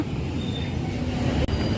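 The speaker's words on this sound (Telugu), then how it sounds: "వెల్కమ్ టు కొత్త వలస జంక్షన్ ప్లాట్ఫామ్ నెంబర్ త్రీ మీదకి అయితే వచ్చింది మన ట్రైన్" Train pulling in at platform three of Kottavalasa Junction on the Visakhapatnam–Kirandul Express, a loud continuous rumble of wheels and carriages close by, with a faint squeal.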